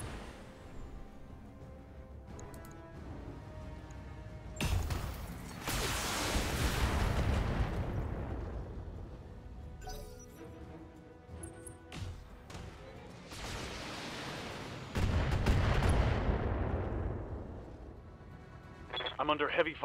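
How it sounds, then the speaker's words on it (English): Heavy weapon fire in BattleTech, with a damaged Panther mech and a turret nearby: large booming explosive bursts rising and decaying in several waves, loud, with talk and radio chatter around them. "I'm under heavy fire"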